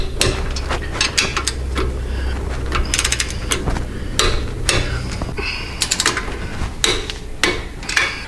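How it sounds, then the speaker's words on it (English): Shock bolts on a 2013 trike suspension are tightened to torque spec with a ratchet, giving bursts of close clicking and metallic clatter in uneven runs over a low background hum. "we'll get these torqued to spec"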